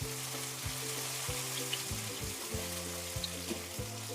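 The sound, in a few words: tomato being mixed into frying onions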